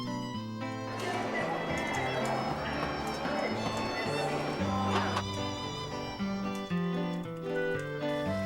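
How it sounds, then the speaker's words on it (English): Horse sounds with hoof clip-clop and a whinny set against a busy background of music, with talking mixed in throughout. "Horse."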